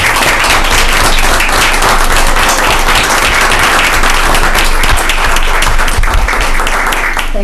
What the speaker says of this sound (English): So I hope you all join me in a round of applause for Dan.